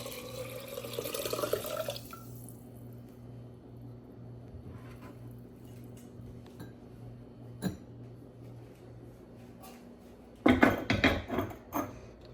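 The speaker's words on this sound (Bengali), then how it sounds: "চাউলটা দিয়ে শেষ, এখন পানি দিয়ে দেবো।" Water is poured into a clay cooking pot holding rice, with a splashing burst at the start and another near the end, separated by a long quiet stretch with a faint background hum.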